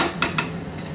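Pots and utensils in a kitchen while chicken is sautéed: three sharp metallic clinks in quick succession, close and fairly loud, over a low steady background.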